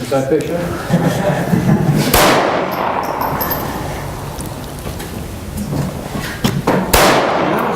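Two sharp, loud gunshots from a .22 Long Rifle handgun at a shooting lesson, about five seconds apart, each cracking and then ringing out with a lingering decay.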